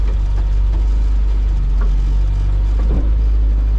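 A cold 1972 classic Mini engine idles as it warms up, a steady low rumbling hum with faint uneven ticks, heard close and alone throughout.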